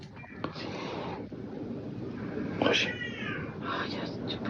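A drawn-out, wailing cat meow rises near the middle, with softer mewing after it over a breathy background hiss.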